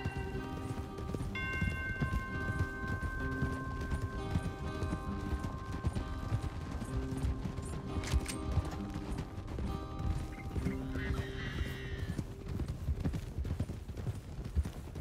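Steady clip-clop of horse hooves trotting at an even pace in the video game Red Dead Redemption 2, with a faint musical tone and a short whinny-like sound partway through.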